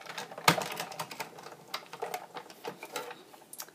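Die-cutting machine cranking a box through with Starburst Framelits, giving a sharp click followed by a run of light, irregular mechanical ticks and rattles close by.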